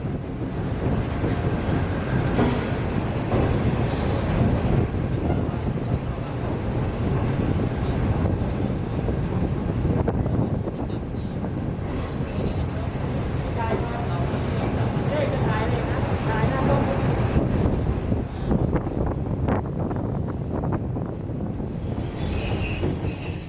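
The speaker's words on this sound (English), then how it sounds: "The squeaking of the train wheels on the curvy tracks is something you'll have to accept though" Train wheels squeal and screech loudly on curved rails of the Thailand Death Railway near the River Kwai, over steady rumbling carriage noise, with faint voices in the background.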